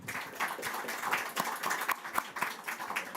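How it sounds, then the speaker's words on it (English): Applause from an audience honoring panelists at a climate-resilient water management conference session, a steady wash of many hands clapping with scattered sharper claps, moderately loud and continuous throughout. "let's give a big round of applause to all the panelists"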